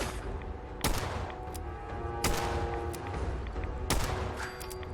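Gunshots in the video game Fallout 4 crack out as three loud, evenly spaced blasts over a dense, steady wash of in-game background noise, with no voices.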